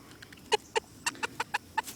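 A rooster on a chicken farm clucks in a quick series of about seven sharp, evenly spaced calls, close by and fairly clear over a quiet background.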